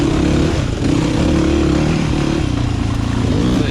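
Off-road motorcycles in a Nova Scotia hare scramble race at South Alton: a continuous loud, close engine drone with clattering mechanical texture and slight revving fluctuations.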